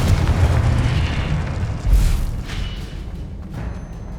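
Confringo explosive spell blast in the Hogwarts Legacy video game: a heavy booming burst with a second thump around two seconds, rumbling low and loud before fading into a dull roar.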